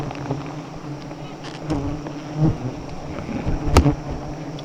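Bees buzz around their nest with a close, steady drone, and individual insects swell louder as they pass near.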